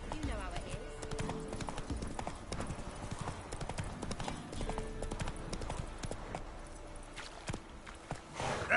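Steady clip-clop of hooves from Roach, Geralt's horse in the video game The Witcher 3, walking through a swamp. The even, close hoofbeats continue throughout, with voices talking over them.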